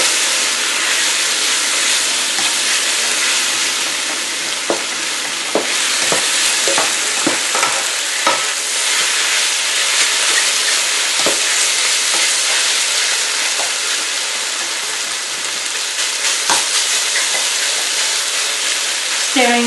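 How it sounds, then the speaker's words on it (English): Beef strips sizzle and fry steadily in a pot for a sugar snap pea stir fry, with a constant loud hiss broken by scattered clicks and scrapes of stirring, and no talking. "So cook the beef for about 4 to 5 minutes."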